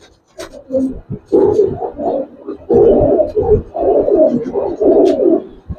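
Old-breed Giribaz pigeons coo close by in a series of soft, throaty, rolling bursts that repeat in a steady rhythm, with short pauses between calls.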